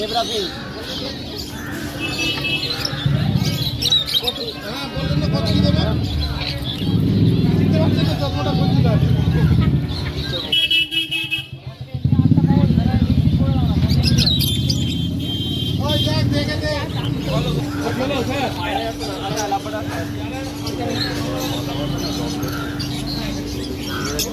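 Small caged birds chirp and twitter in scattered bursts amid a busy crowd at the Serampore bird market, with people talking loudly nearby and general market babble throughout.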